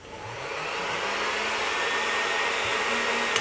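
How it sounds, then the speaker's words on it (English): A heat gun blows hot air during a leather repair, making a steady, close, continuous whooshing roar with no speech. "Heat gun."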